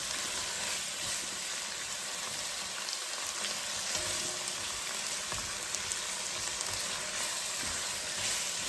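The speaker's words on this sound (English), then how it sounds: "I like to saute my vegetables because I really think it brings out more flavor." Vegetables for a copycat stew sauté in a hot pan, giving off a loud, steady, close sizzle with faint crackles and no talk.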